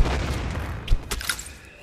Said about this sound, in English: two Black Knights, just explosive, and they're gonna explode both